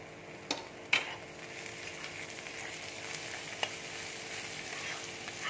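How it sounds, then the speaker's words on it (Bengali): Chopped onion dropped into hot oil in a pan, giving a steady, close sizzle and crackle that runs throughout, with a couple of sharp spatters near the start and no one speaking. "তেল দেখো গরম হয়ে গেছে, এবার আমি পেঁয়াজটা দিয়ে দিচ্ছি তেলে।"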